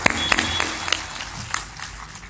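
An audience at a spiritual discourse claps in a short, scattered burst, loud at first and then thinning out into a few softer claps.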